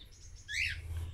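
A pet parrot gives one short, bright squawking call midway, fairly faint, over a low steady indoor hum and a few softer chirps.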